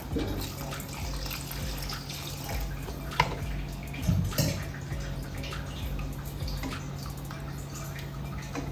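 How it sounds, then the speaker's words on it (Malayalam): Water splashes and trickles into a pot of cooking rajma, with a few louder gushes midway over a steady background hum. "കുറച്ചും കൂടി വെള്ളം ഒഴിച്ചു കൊടുക്കാം."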